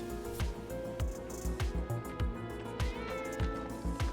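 A cat meowing close by, a rapid run of short, insistent meows repeating about every half second, loud and clear over a faint tonal background.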